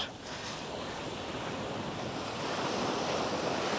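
Surf washes onto Thomas Beach in Bali as a steady, continuous roar of breaking waves, with wind buffeting the microphone and no voices heard.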